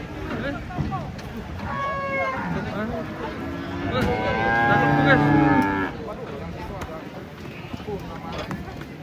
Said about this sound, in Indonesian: Sapi galak.